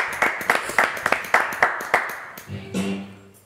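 Several sharp, rhythmic claps from a small studio audience on a French TV talk show, loud and close and fading, then a voice speaks over a faint tone at the end.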